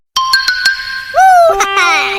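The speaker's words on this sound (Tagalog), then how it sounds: "Text message." A short electronic text message notification chime of a few bright tones, loud and close, with a sliding tone near the end.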